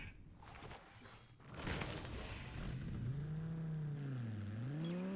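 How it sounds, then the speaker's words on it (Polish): A car engine in the video game War Machine revs up and holds a rising, wavering whine, the pitch climbing and dipping as it accelerates, with a synthetic, game-like quality. "Ten samochód ma fajny dźwięk."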